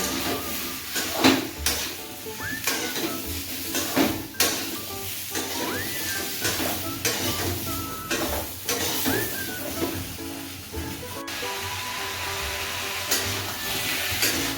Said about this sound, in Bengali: আমি হলুদ দিয়ে একটু নেড়ে চেড়ে নিয়ে ভেজে নিচ্ছি।